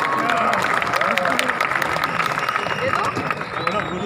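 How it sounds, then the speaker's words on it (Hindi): A huge crowd at a large Mi Lifestyle event in Panvel, Mumbai, breaking into loud, sustained applause, dense clapping filling the space throughout with cheers and voices mixed in. "जोरदार ताली होना चाहिए सर के लिए"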